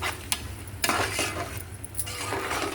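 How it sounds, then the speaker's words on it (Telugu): Fifteen cracked eggs go into a hot pan and get stirred, with metal utensil scrapes and clinks over a light sizzle, several sharp knocks and a steady frying hiss nearby. "దీంట్లో 15 గుడ్లు వేస్తున్నాను"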